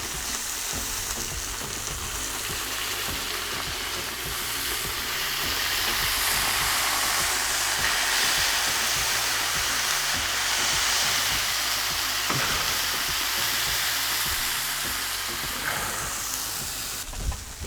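Steady, loud sizzling and hissing as water is poured over large pieces of beef tail in a hot cauldron over a campfire, a continuous frying crackle that swells slightly midway and holds for the whole stretch, no voices.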